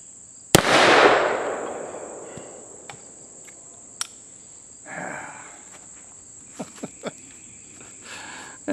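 A single sharp, loud gunshot cracks from an Automag II .22 Magnum pistol fired at 8-ounce bottles 15 yards away, its echo decaying over a steady insect drone, followed by faint later clicks and rustles.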